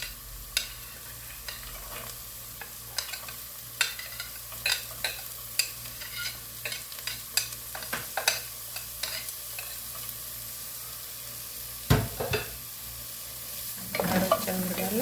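Carrots and onions frying in a pan as they are stirred, a steady sizzle punctuated by repeated light spoon clicks and scrapes, with a louder clatter and busier stirring toward the end, close and with no talking.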